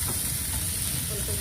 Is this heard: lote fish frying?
yes